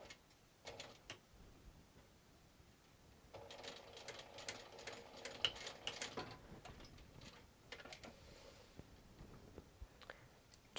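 Sewing machine back-stitching where two fabrics join on a crossbody bag, with a steady mechanical run in the middle and shorter bursts and ticks before and after, close and fairly quiet.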